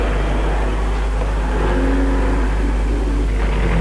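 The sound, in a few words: car arriving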